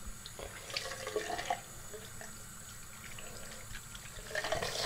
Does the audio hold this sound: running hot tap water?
yes